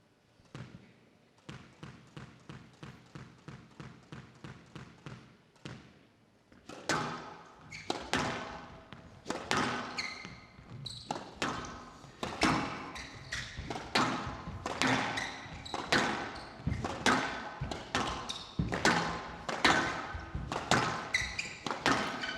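A professional squash rally at the British Open, with a ball striking rackets and court walls in sharp, rapid thuds: sparse and quieter at first, then a fast, loud, relentless exchange of echoing hits.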